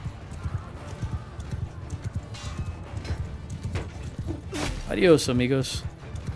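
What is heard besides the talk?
horse galloping in the video game Mount & Blade II Bannerlord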